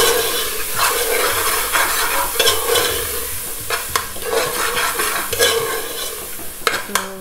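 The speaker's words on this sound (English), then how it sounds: "We're just going to give it a good mix." Egg curry spices being stirred in a pan: a spoon scraping and clinking in repeated strokes over a soft, steady sizzle of frying oil.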